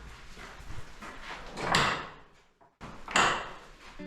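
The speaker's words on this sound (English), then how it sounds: "So we're going to go in through the porch door now, which Cynthia's just opened." A heavy, studded oak church porch door with ironwork swings open with a creaking, scraping rush, then goes briefly silent before a second heavy movement. The sound is fairly quiet and is not covered by talk.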